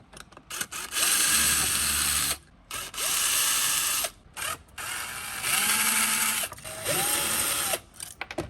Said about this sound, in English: these nuts on the back of this take a 7mm wrench, and we're just going to undo them